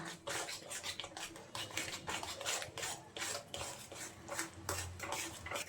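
Flour and semolina stirred in a bowl with milk, giving repeated scraping, rubbing strokes in a steady rhythm, close and moderately loud, with no talking.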